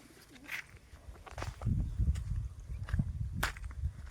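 Soft cooing and fluttering of a few pigeons nearby, with scattered wing flaps and light scuffing over a quiet outdoor background.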